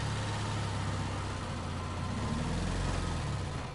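A heavy truck engine drones and rumbles continuously in the video game Resident Evil 4, a loud low idle with broadband noise and no talking.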